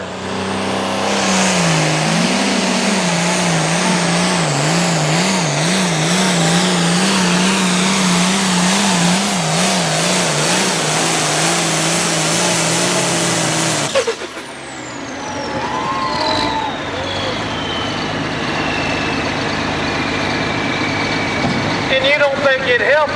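A pulling truck's engine revs hard and loud with a wavering pitch at a county fairgrounds truck and tractor pull in South Boston, then cuts off abruptly midway, leaving crowd noise and a public-address announcer talking.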